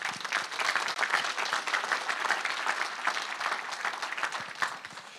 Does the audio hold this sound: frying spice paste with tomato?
no